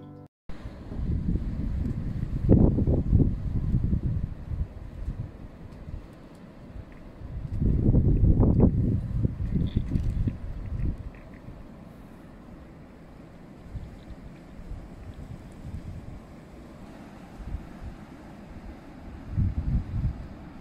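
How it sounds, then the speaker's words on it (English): Strong sustained wind of about 52 km/h blows through a garden ahead of a storm, a deep roaring rumble that swells in two big gusts and then settles into a steadier, softer rush. "We have sustained winds right now of 52 kilometers an hour"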